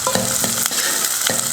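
Curry leaves and chopped onion sizzle loudly in a frying pan, a close, steady crackle with a few scraping stirs.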